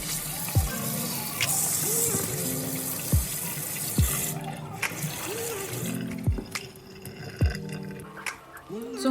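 Potatoes washed under a running kitchen tap, steady water gushing into a sink with repeated knocks and clunks as they are handled, a voice talking over it.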